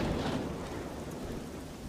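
Cartoon rain and thunder, a steady wash of falling rain with a low rumbling roll underneath, moderately loud and continuous with no voices.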